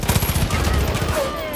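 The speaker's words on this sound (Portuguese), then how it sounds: "ele atirou na mina ou fui eu que atirei sem querer?" Rapid automatic gunfire from the Far Cry 5 video game, a dense burst of repeated shots in the first part of the clip that trails off into a steady noisy wash.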